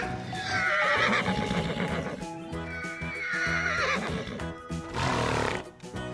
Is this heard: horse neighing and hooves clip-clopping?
yes